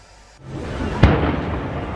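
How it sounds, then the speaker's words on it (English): A single sharp, booming blast of an explosion bursts out after a brief rise in background noise, heard from a police cordon during the Paris terrorist attacks, followed by a rumbling roar that lingers. "Explosions were heard clearly from the edge of the police cordon."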